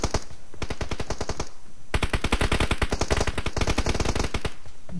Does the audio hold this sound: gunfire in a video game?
yes